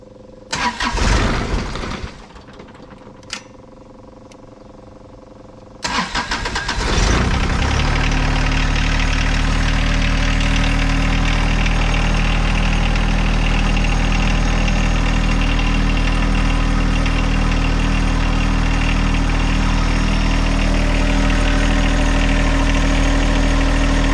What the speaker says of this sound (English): All right, so start.